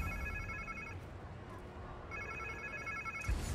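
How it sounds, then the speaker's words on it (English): A phone rings in Spider-Man 2, with two bursts of electronic ringing about a second apart over a steady bed of low game ambience, moderately loud. "Sounds like somebody's phone."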